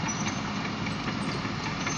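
A passenger train on the OC&T line in Titusville, Pennsylvania gives a steady, broad rumble and hiss of rolling and engine noise, continuous and fairly close, with no talking.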